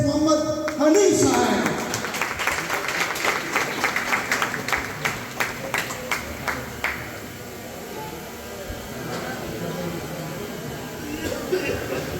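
An audience at an iftar party gathering claps to welcome a speaker, with loud applause at first that thins into scattered claps and continues under a voice.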